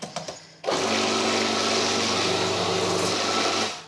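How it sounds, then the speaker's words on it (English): A food processor pulsing julienned chili into butternut squash houmous, a few brief clicks and then one loud, steady motor whir lasting about three seconds before it cuts off, close and alone. "What we'll do, we'll just put this in, just pulse it, so we can keep the chili bits in the top."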